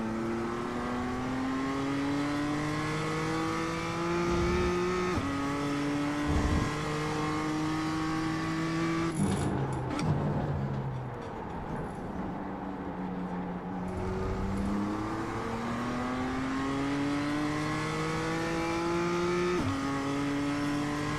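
A BMW M2 race car laps Daytona in the iRacing game, its engine droning and revving up through the gears over and over, with a few brief dips and shifts, loud and continuous, with no voices.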